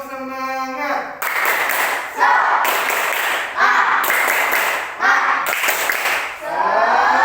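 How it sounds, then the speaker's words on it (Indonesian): A primary school class of fifth graders stands and performs the 'tepuk semangat' clapping routine, loud rhythmic bursts of group clapping in several sections separated by brief pauses, with children's voices chanting along. "kita tepuk semangat dulu"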